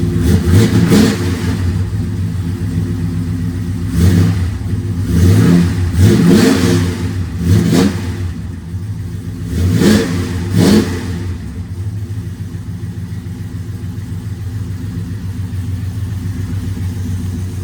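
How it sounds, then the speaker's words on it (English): A cold-started LS V8 in a Chevrolet El Camino idling with repeated throttle blips, several sharp revs rising and falling over a steady rumble, close and loud. "a little cold start in the El Camino"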